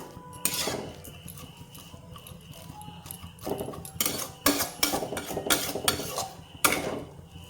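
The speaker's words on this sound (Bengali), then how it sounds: "ভালোভাবে আমার এভাবে নাড়িয়ে চাড়িয়ে আমার মিক্স করে নিতে হবে" Metal spoon scrapes and clatters against a pan while jorda semai, a sweet vermicelli Eid dessert, is stirred and mixed; the irregular clinks and scraping come up close and fairly loud, with no talking.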